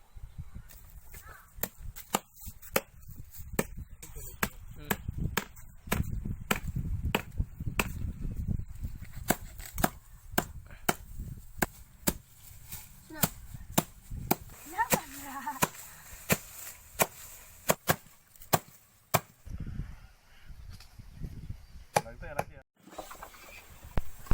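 Herbs being pounded and crushed into powder for a herbal pest repellent, a long run of sharp irregular knocks and thuds at close range, busy and loud, with a voice talking at times.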